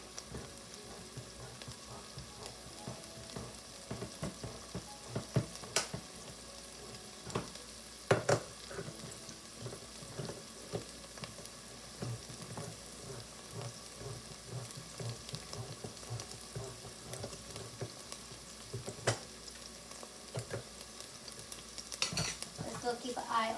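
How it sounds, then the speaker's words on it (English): Vegetables sauté in a pan for chicken tortilla soup, a steady soft sizzle with occasional stirring clicks and utensil scrapes, fairly quiet and close, no talking. "while our vegetables are sauteing"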